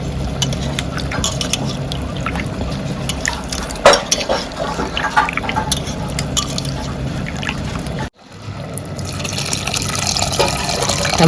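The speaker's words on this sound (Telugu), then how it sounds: "ఆ చింతపండు పులుసు పిసికి అందులో పోసేసేద్దాం" Soaked tamarind juice poured into a pot of cooked dal for Andhra pappu charu, a loud, close, continuous liquid splash and gurgle with a brief pause before the flow resumes.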